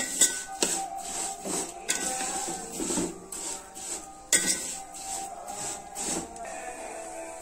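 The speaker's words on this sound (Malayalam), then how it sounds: "അപ്പോൾ ഇതിങ്ങനെ മിക്സ് ചെയ്ത് കൊടുക്കുന്നുണ്ട്." A utensil stirring roasted semiya vermicelli in a pan, with repeated scraping and light metallic clinks in an uneven rhythm, close and with no talk.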